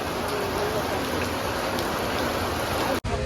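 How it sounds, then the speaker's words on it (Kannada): Heavy monsoon rain pours steadily as a dense, loud hiss of drops hammering surfaces, unbroken for about three seconds before it cuts off abruptly. "ಮಳಿ ನೋಡ್ರಿ ಹೆಂಗ್ ಬಂದಿದೆ"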